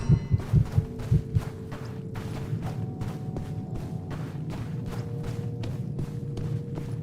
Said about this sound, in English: Does it not make a heartbeat when they stop moving?